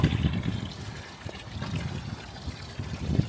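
Water sloshes and trickles softly in an ice bath, faint and continuous with small splashes, no voices.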